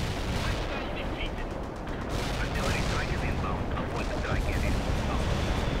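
Continuous heavy battle noise from artillery fire in the real-time strategy game World in Conflict, with booming impacts and scattered gunshots forming a dense, steady roar while voices call out.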